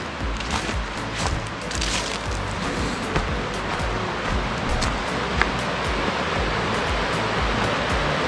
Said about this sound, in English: down here you can hear the river.